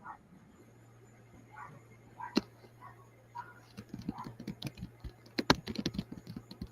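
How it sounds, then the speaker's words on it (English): Typing on a computer keyboard: after a quiet start with faint whispery sounds, a run of soft, uneven key clicks builds up close by, with a few sharper taps standing out. "She's typing."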